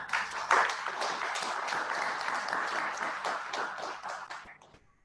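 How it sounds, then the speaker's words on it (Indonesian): Applause from a crowd, dense steady clapping that swells early and fades toward the end. "Tepuk tangan."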